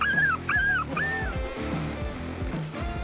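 A dog fighting a marmot, giving loud, close, high whimpers and yelping cries in rapid repeated bursts, with scuffling noise and no talking.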